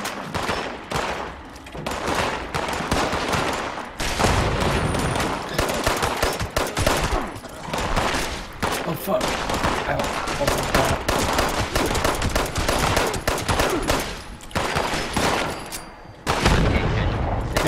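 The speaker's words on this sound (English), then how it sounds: "Yeah, I got my fully auto, but I am just shitting bullets out like crazy." Fully automatic gunfire in the game Fallout 76, long loud bursts of rapid shots rattling almost continuously with brief pauses between them and a faint voice beneath.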